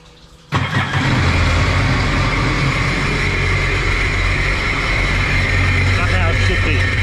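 A Sea-Doo jet ski with a supercharged Rotax 4-TEC engine after a top-end rebuild starts abruptly and settles into a loud, steady running drone close by, with voices talking over it.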